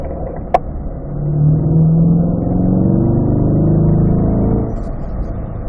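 Engine revs climb as a car accelerates back uphill on a race track at a performance driving school, rising loud and sustained for several seconds after a sharp click, then easing off near the end, with no one talking.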